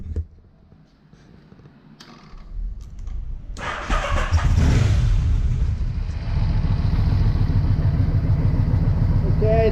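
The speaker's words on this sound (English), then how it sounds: "just start the bike, let the engine get up to running temperature" Yamaha Vmax motorcycle engine cranking over and firing up, starting from faint background sound, then catching around the four-second mark into a loud, steady, close idle that continues to the end.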